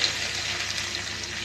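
A steady hiss of onions frying in oil with mustard seeds, even and continuous, with no voices.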